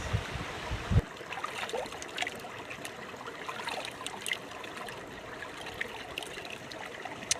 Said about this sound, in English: Very few places left in the world now where you can drink water like this straight from the creek.